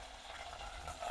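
Spices, fennel seeds, curry leaves, green chillies, onion and garlic sautéing in a pan for a Jaffna egg curry, giving a steady, soft hiss and crackle close by with no talk.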